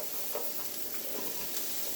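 Vegetables for a chicken pot pie cook down in a pan, giving a constant soft sizzle with occasional stirring scrapes and no voices.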